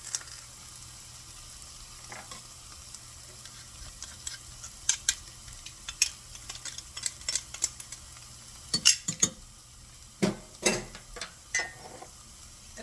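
Garlic sizzles and crackles in a hot pot as it is stirred for tomato soup, a steady close hiss broken by bursts of sharp pops and scraping clicks.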